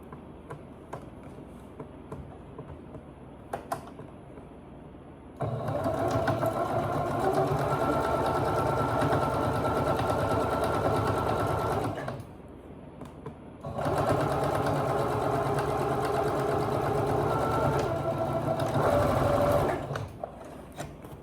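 A sewing machine joins edges of old denim jeans in two long, loud, steady runs of motor drone with a short pause between them, alone without talk.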